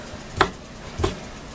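Two sharp knife chops on a cutting board, spaced apart, fairly close and moderately loud with quiet room noise between.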